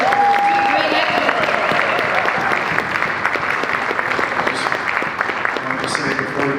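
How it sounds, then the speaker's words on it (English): An audience applauds after a stage performance with steady, close crowd clapping and cheering, and a brief whistle sounds near the start. "How about a wonderful applause?"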